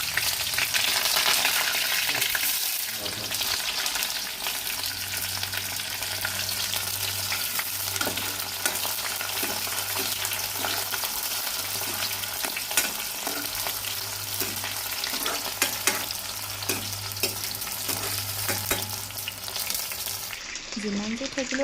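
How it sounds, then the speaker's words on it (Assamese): Frying sizzle in a wok at home while preparing a chicken liver fry for a local chicken meal, a steady close hiss with occasional stirring scrapes and a low hum underneath, continuing throughout. "এইফালে মই কেৰাহীখন পাতি দিছোঁ কিয়নো এটা ভাজি কৰি দিওঁ"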